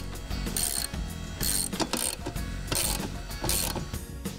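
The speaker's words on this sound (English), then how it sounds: "Now, tighten down all of the nuts onto the U-bolts." A ratchet wrench tightens nuts onto U-bolts that clamp a mounting bracket to an ATV front rack, giving close, loud, continuous clicking in quick repeated strokes with no talk.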